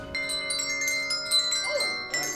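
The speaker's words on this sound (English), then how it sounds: "When we're playing our bells" Bright, ringing handbell tones sound in a series of clear strikes, their pure notes overlapping and lingering as they fade.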